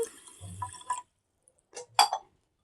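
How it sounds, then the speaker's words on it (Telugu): A glass of water is poured onto soaked kodo millet in a cooking vessel while making payasam, giving a brief, close splashing pour, a pause, then a couple of short splashes. "ఒక గ్లాస్ వాటర్ అయితే యాడ్ చేసుకుంటున్నాను"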